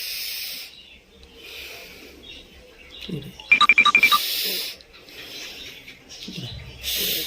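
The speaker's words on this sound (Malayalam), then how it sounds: "ശ്വാസം വലിച്ചിട്ടേ." A person in a comic doctor scene draws a deep, exaggerated breath in, heard as a short burst of raspy, pulsing hisses amid quieter room sounds.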